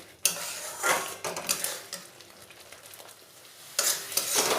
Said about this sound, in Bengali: খুব ভালোভাবে মশলাটা কষিয়ে নেব